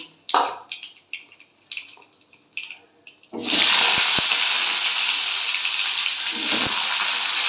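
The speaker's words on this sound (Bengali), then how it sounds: "এবার একটু কালো জিরে ফোড়ন দিলাম।" Nigella seeds hit hot oil as tempering for a Bengali hilsa curry with pumpkin and potato, setting off a sudden loud, steady hiss and sizzle that follows a few soft clinks and taps.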